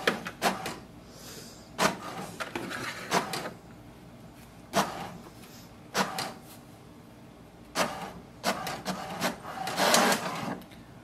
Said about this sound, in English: Next is to print its password.